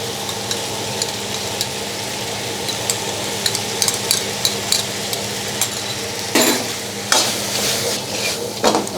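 Egg noodles being stirred and fried with meat in a pan, a steady sizzle under repeated scraping stirs and occasional utensil clinks, close and fairly loud, with louder bursts of scraping near the end.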